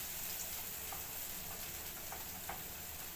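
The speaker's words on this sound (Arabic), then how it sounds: "واروح بقى جايه ونازله في الزيت كده" Falafel patties sizzle steadily in hot oil, a continuous close crackling hiss with a few small pops.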